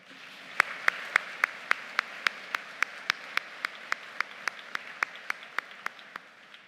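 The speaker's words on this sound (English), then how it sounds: "let's take the moment to send a signal of our appreciation by providing them with a round of applause" Convocation audience applauding donors at a Faculty of Education graduation, heard as a single steady, rhythmic clap repeating at a quick, even pace, crisp and distinct against a quiet hall, fading slightly toward the end.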